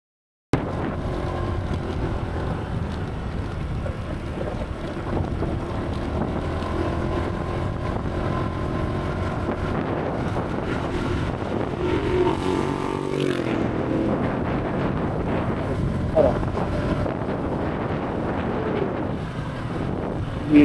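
Honda Giorno 125+ scooter climbing Mount Samat in Bataan at full throttle: steady roaring wind noise buffets the microphone over a low continuous engine drone, loud and unbroken for the whole ride.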